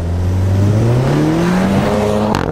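A 2017 Audi TT with a 230 PS engine, quattro drive and six-speed S tronic revs hard and loud, its pitch climbing steadily through a single pull before a brief sharp crack at the end.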